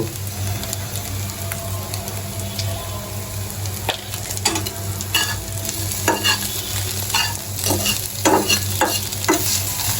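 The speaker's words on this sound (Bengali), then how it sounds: "খুন্তি নিয়ে ডিমটি ঝুড়ে ঝুড়ে করে ভেজে নিব" An egg being stirred and scrambled with a spatula as it fries in a pan for noodles: constant loud sizzle with scattered scraping strokes that grow busier toward the end, close up, with no talk.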